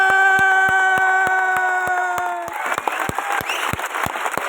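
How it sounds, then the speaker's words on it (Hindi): A hall audience clapping loudly together, a dense burst of applause that starts under sustained music tones, then carries on alone as the music drops away. "तो एक बार ऐसी ताली बजाए कि जो आसपास सो रहा है वो भी बोले कहाँ पे हूँ।"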